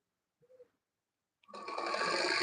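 A sewing machine starts stitching a dress after a short pause and a faint bump, its steady motor whir running close and continuous to the end.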